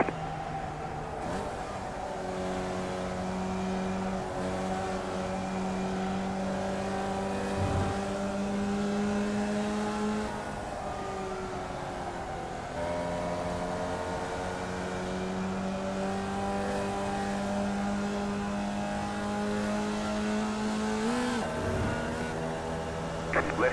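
Open-wheel formula race cars in the iRacing sim run steadily with a droning engine tone that rises and falls through gear shifts, holding close and continuous throughout.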